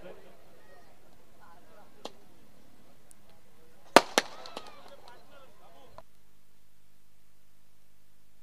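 Firecrackers and fireworks go off to welcome a guest at a village sports match in Goregaon. A few sharp cracks and pops stand out, including a quick double bang near the middle, over a low murmur of background noise.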